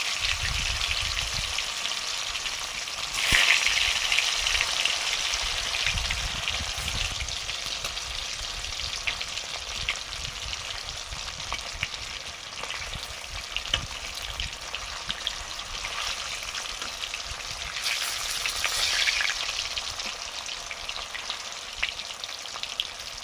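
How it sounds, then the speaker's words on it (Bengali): Chitol fish dumplings (muitha) frying in mustard oil give a steady, close hiss of sizzling that runs throughout, with brief louder bursts of crackle. "মুইঠাগুলো ভাজা শুরু করলাম।"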